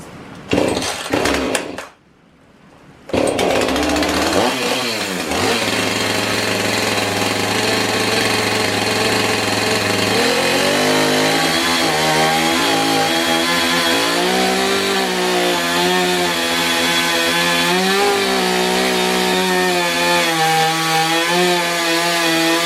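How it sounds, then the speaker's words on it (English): A chainsaw cuts through a large piece of wood for a beaver mount, its engine holding a steady loud drone with shifting pitch as the blade bites, after a brief pause near the start. "So right now it's chainsaw time."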